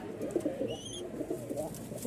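Rajshahi flying pigeons cooing at a pigeon farm and market: soft, repeated throaty coos close by, with a brief thin chirp partway through and no talking.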